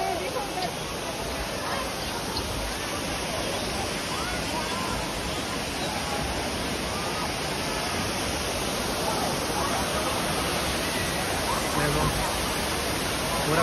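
A waterfall in Assam pours in a steady, broadband rush that stays loud and unbroken throughout, with voices of people nearby faintly mixed into the roar.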